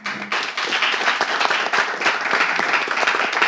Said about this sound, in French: Faire 15 secondes d'applaudissements pour nos illustres qui nous ont quittés